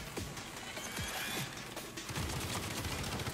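Saints Row video game gunfire, a dense fusillade of sharp shots and mechanical clatter running continuously and loud, with rapid bursts near the end.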